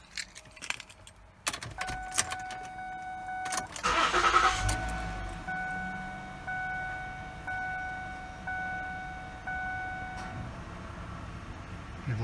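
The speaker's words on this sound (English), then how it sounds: "they advise you to go ahead and start the vehicle" A 2008 Lincoln MKX is started after keys jangle: a short cranking burst catches into a steady idle hum, with faint electronic chimes ringing repeatedly over the running engine, recorded close and quiet.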